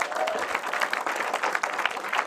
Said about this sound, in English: we are going to round of applause again